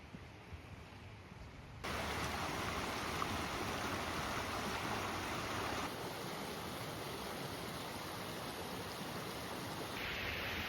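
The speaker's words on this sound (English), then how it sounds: "It's just next to this creek, like the entire time." Steady broadband rush of a creek flowing beside a hiking trail, close and fairly loud, stepping up suddenly after a quieter start and continuing without interruption.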